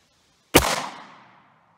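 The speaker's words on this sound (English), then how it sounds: "Shooting from about 5 feet away." A single sharp 9mm shot from a short-barrel Taurus GX4 pistol fired into ballistic gel from about five feet away, loud and close, with a quick decaying echo and no talking.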